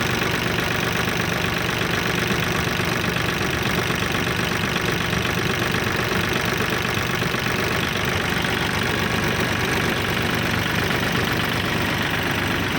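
A Kubota L4018 tractor engine, fitted with a dozer blade and disc harrow, runs steadily with a dense, continuous idling rumble and knocking texture, loud and close throughout with no talking.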